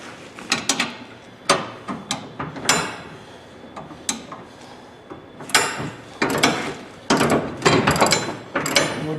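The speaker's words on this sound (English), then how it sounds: "The ratchet's still on the cap screw." A ratchet works on a cap screw fitted with a nylock nut on a Humvee tire carrier, giving a series of close, sharp metallic clicks and knocks in irregular bursts, with no talking.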